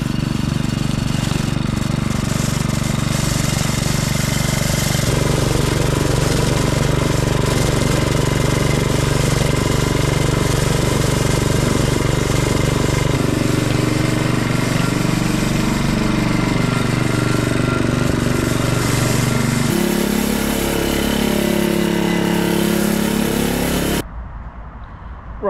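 Hyundai HYYW70 power weeder working along the edges of block paving, a loud, steady petrol engine drone with a rough scraping buzz that runs continuously for about 24 seconds, then cuts off.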